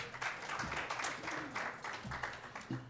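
Audience applause at a Black press conference breakfast session, a fairly steady patter of clapping with some low voices and murmur mixed in beneath it.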